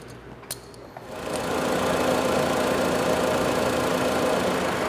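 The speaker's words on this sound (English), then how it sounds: "With our engine at idle," A 2004 Honda Civic engine settles into a steady, close idle after a brief quiet start with a couple of small clicks, then holds an even, continuous hum to the end.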